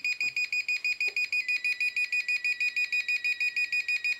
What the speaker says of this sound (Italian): Però fa un altro tipo di beep